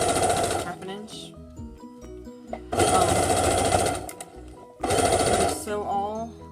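A sewing machine runs in three fast, loud bursts while stitching the sides of a biscuit quilt, with brief pauses of clicking and handling between each run.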